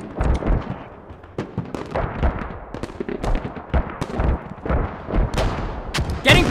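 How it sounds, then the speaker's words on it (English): Mortar and artillery-style explosions in the military shooter Squad during a tournament match, a dense run of sharp booms and gunfire cracks, some near and loud, others distant, with faint voice chatter underneath. "Again, the explosions, mortars are very critical for this match"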